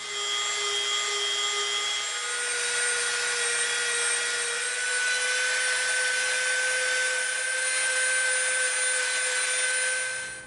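A power tool sands and bevels the edge of an EVA foam piece. Its high, steady whine runs continuously throughout at even loudness, with no talk.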